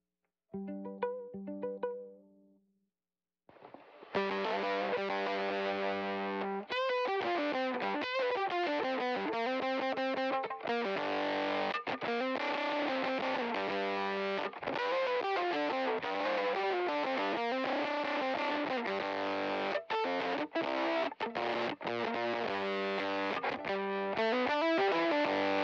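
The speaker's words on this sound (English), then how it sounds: "turn on the wide open fuzz and see what that does to the sound" Fiddle run through a Chase Bliss Audio x Benson Amps Automatone preamp with wide open fuzz, a short clean phrase, a pause, then sustained thick distorted bowed notes sliding and holding loudly for over twenty seconds, no talk.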